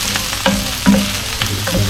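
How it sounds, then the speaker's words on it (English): Onions, shallots and garlic brown in a pan for a Oaxacan mole negro. A steady, loud, close sizzle continues throughout, broken by a few clattering stirs of a utensil. "we'll still take a couple of minutes for our onions and shallots and garlic to brown."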